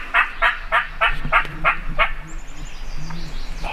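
A wild turkey hen calls during a spring turkey hunt, a run of about seven sharp, evenly spaced yelps in the first two seconds, fairly close and clear, followed by fainter outdoor background.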